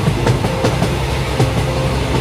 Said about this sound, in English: In no time the train reached its top speed